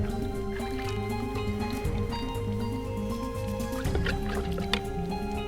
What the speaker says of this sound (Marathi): मी पाणी भरून घेत आहे तर बघा पाणी भरला आपण